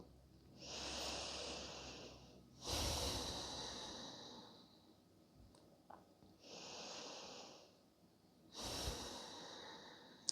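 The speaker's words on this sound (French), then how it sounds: "Prends encore une ou deux respirations en étant pleinement conscient dans l'instant présent." Slow, deep breathing during yoga meditation: about two full breath cycles, each a long airy inhale followed by a heavier exhale, close and calm, with quiet pauses between.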